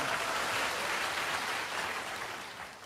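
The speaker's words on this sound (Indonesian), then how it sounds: "kita kasih tepuk tangan buat mereka semua" A church congregation applauds at a Sunday morning service, a steady broadband wash of clapping that fills the space and eases off slightly toward the end.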